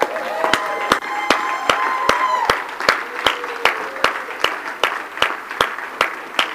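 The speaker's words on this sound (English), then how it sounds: "can we just all stand up and give the worship team a round of applause" Church congregation standing to applaud the worship team, a steady round of clapping with a few cheers, and a voice speaking over the start before the clapping continues in a regular rhythm.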